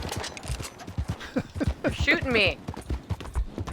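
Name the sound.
horse hooves in Red Dead Redemption 2 video game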